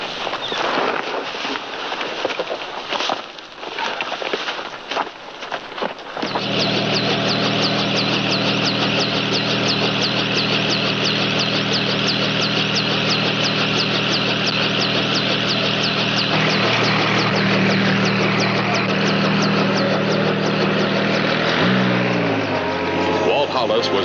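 Helicopter engine and rotor at close range, starting up to a loud, steady whine with a pulsing rotor chop. Voices are heard over the engine noise early on.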